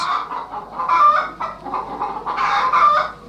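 A hen squawks and clucks repeatedly in agitated bursts, loud and close, with no voices around.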